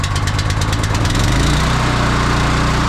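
A Honda 390 engine on a pressure washer runs loud and close, its rough chugging speeding up into a steadier, higher roar as the throttle opens.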